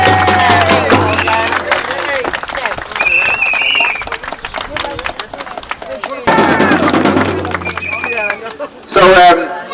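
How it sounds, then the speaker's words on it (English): A protest crowd cheering and clapping in bursts, loud and close, with a voice speaking over the noise and a sharp loud burst near the end. "Big cheer there for those folks."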